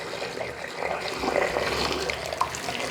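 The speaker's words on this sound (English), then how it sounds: "Okay, so now I'll pour it down the next drain." Hot water pours steadily down a bathroom drain, giving a continuous close splashing and gurgling rush with no pauses and no talking.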